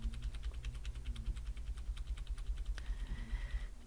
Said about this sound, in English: I'm going to move it up now with the arrow keys on my keyboard,